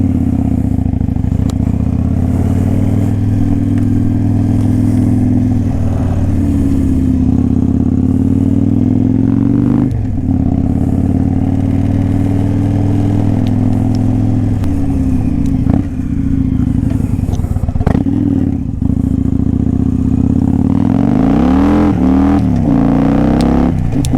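Victory motorcycle fitted with an Amazon fairing out on a ride, its engine a loud, steady close-up drone with wind rush and occasional shifts in pitch as it accelerates and eases off, no talk.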